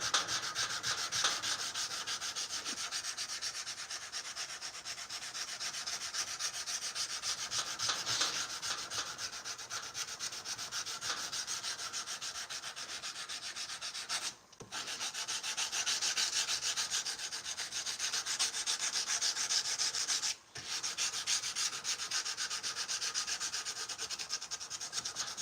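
Knife blade hand sanded against a rubber backing block, a close, steady scratchy rasp of repeated long strokes running continuously, broken by two brief pauses.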